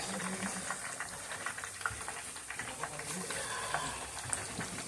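Batter-coated shrimp cook in hot oil, a soft continuous bubbling and sizzle with small crackles, fairly quiet throughout.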